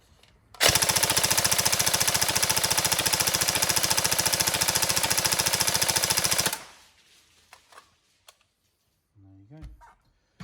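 An upgraded Tokyo Marui SCAR-L CQC next-gen airsoft AEG fires one long full-auto burst of about six seconds, a loud, fast, even mechanical rattle up close, then it stops and a brief low voice follows.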